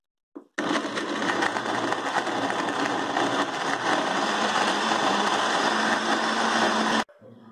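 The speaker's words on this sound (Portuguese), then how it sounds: "Agora nós vamos bater." A blender whirs steadily, blending Swiss lemonade made from lemons with condensed milk and cream. It starts abruptly, runs as a loud, close, continuous roar for about six seconds, then cuts off.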